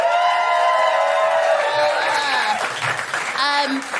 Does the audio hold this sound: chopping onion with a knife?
no